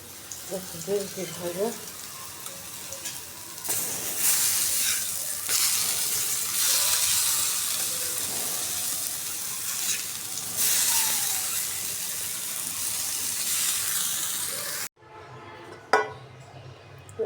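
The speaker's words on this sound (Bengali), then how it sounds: "এখন আমি ভেজে নিতেছি" Fish fries in a pan with a broad, continuous sizzle that surges and holds for several seconds, cutting off abruptly near the end, after brief talking at the start.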